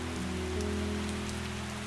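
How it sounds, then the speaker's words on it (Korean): Steady rain falls with an even, continuous hiss, soft and unbroken, with no voices. "가만히 눈을 감고 귀를 기울이면 빗소리와 함께"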